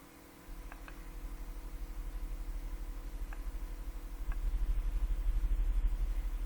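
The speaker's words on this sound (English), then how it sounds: "it's car starts up just on tick over. It may be a taxi." A car engine starts and settles into a low, steady idle rumble that grows slightly louder, with faint distant clicks.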